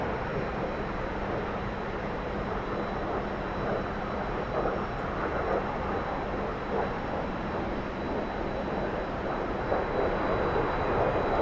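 Steady jet engine drone of a T-45 trainer in the DCS flight simulator, a constant loud broadband roar that holds throughout with little change as the throttle is pushed forward.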